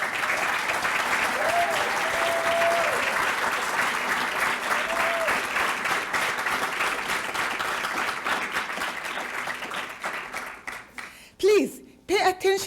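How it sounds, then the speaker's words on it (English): An audience applauds the contestants of a public-speaking table topics contest, a sustained dense roar of clapping that thins out toward the end before a voice speaks. "please give all contestants a very big round of applause"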